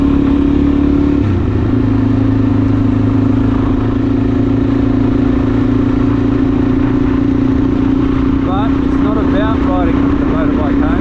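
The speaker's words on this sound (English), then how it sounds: "Riding the motorbike home." A motorbike being ridden home, its engine holding a steady loud drone throughout with wind rumble, and a voice talking over it.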